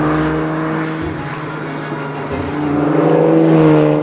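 A 1956 Aston Martin DBR1 race car at speed, its engine a loud, steady roar that climbs in pitch toward the end, with no voices.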